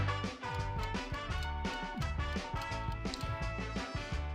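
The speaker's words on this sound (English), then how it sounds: "The countdown sounds like this." A game show countdown sound effect: a busy, rhythmic musical cue with repeating beats, steady and fairly quiet throughout, with no one speaking.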